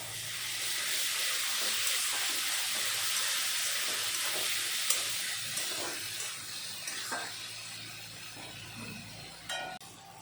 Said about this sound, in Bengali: মশলা ভালো মতন আমার কষানো হয়ে গেল